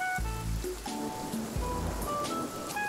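Steady rain falls in the survival game Sons Of The Forest, a continuous soft hiss that holds through the clip beneath low droning game music and scattered tonal notes.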